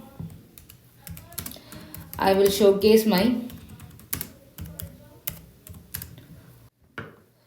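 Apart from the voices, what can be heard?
typing on a computer keyboard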